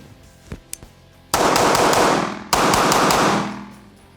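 Pistol fire at two targets during a shooting drill comes after a few light clicks: two fast, loud strings of sharp shots, each lasting over a second, with a brief gap between them.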